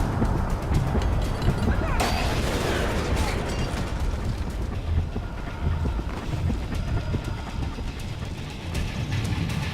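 Explosions and combat noise in Splinter Cell: Conviction, Diwaniya, Iraq level: a loud blast near the start gives way to continuous rumbling, rattling battle din.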